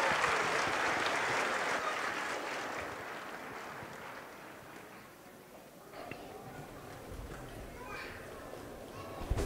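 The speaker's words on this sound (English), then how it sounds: "Everyone, let's give them a huge round of applause" College concert audience applause for a student band, a broad wash of clapping that slowly thins and dies away, followed by quieter room noise and faint voices.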